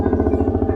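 A Honda CBR150 custom scrambler motorcycle engine runs at steady idle nearby, a low rhythmic pulsing putter with a faint mechanical clatter.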